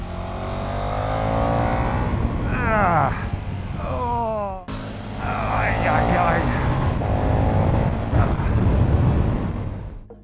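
A KTM 1290 Super Duke R Evo motorcycle engine roars up and down through the revs as it rides past under heavy wind rush, its pitch sweeping with each gear change.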